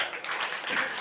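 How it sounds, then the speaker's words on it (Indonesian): A group of students in a school classroom clap together in a quick, dense burst lasting about a second, close and moderately loud. "2 tepukan."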